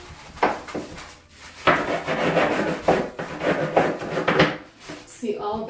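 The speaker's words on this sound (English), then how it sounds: "Then we clean the soap holder." Scrubbing and rubbing on a bathroom soap holder during bathtub soap scum cleaning with a homemade cleaner, a series of close, uneven rasping strokes in bursts with short pauses.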